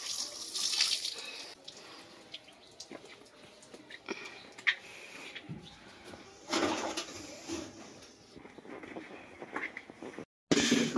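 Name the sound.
water running while washing dishes and doormat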